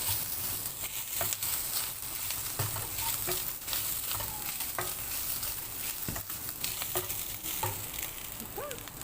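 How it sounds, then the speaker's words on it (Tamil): Grated coconut being sautéed and stirred in a pan with onions, a continuous close sizzle broken by repeated spoon scrapes and knocks against the pan. "இப்போ தேங்காய் போடணும் தேங்காய் நல்லா வதக்கணும்"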